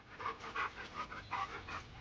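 A dog pants in body cam footage of a police encounter, a quick, rhythmic series of breathy huffs, close and moderately loud, with no talking over it.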